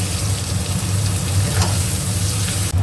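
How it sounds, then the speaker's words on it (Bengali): Cabbage and carrot sizzle steadily in hot oil with onion and chilli, a continuous close, even frying hiss with a low bubbling hum, ending in a brief clatter. "এটা একটু ভাজা ভাজা করে নেব"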